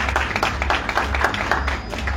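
A church congregation claps steadily in thanks, a dense continuous patter of many hands at moderate volume, with faint voices mixed in.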